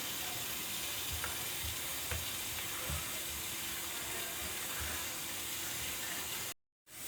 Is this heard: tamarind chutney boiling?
yes